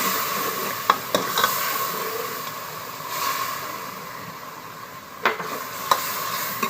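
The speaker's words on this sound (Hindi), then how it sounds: "मसाला हमारा बहुत अच्छे तरीके से भून चुका है" Masala frying in a pan and being stirred, with a splash of water added, giving a steady close sizzle and hiss with a few sharp scraping clicks from the stirring.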